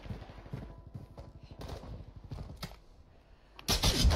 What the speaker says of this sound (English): I heard shooting up there.